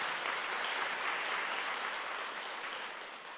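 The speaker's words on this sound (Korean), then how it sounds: "우리 하나님께 박수 한번 올려드릴까요?" Steady, even applause from a church congregation during a Sunday worship service, moderately distant, slowly tapering toward the end with no talk over it.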